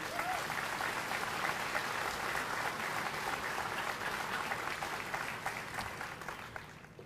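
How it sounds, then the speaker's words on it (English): Steady applause from a large audience at a high school graduation ceremony in Fort Kent, sustained throughout and slowly tapering at the end, heard from within the hall at moderate distance. "About a round of applause, please."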